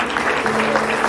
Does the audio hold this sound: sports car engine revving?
no